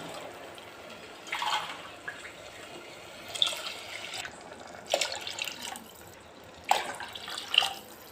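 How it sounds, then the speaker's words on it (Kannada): Water poured into a cooking pot of rice for kuska rice, heard as several short splashing gushes with gaps between them, fairly quiet and with no talking. "ಈಗ ನಾನು ಎರಡು ಗ್ಲಾಸ್ ಅಕ್ಕಿ ತೊಗೊಂಡಿರೋದ್ರಿಂದ ನಾಲ್ಕು ಗ್ಲಾಸ್ನ ನೀರು ಇದ್ದೀನಿ"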